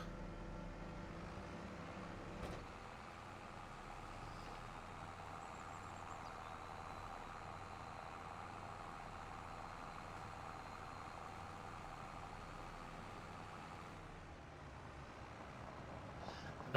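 Truck engine idling in the Farming Simulator 25 video game, a steady low drone with a brief click early on, running evenly without speech.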